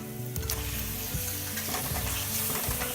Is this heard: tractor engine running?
no